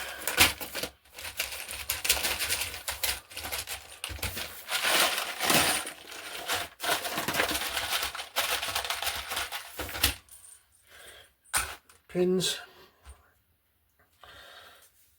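Metal pins handled and clinking during a build of a free-plan New Style RC glider, a busy stretch of light metallic rattling and tapping, then sparser close clicks and clinks.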